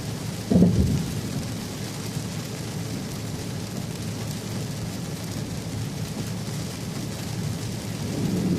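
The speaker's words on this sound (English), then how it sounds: "I also like it when it rains like this sometimes because there's no traffic out." Steady heavy rain pours during an August thunderstorm, with a dull rumble of thunder near the start and a constant wash of rainfall throughout.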